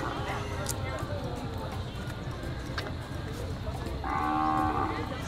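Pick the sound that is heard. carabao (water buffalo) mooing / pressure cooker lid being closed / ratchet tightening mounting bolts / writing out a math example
carabao (water buffalo) mooing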